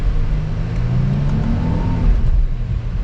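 A 2021 Genesis G80 3.5T turbocharged car accelerates with a steady, loud engine drone and road rumble heard from inside the cabin, the pitch rising slightly, with no talking.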